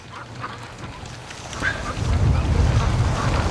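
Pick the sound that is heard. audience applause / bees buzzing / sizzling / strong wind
strong wind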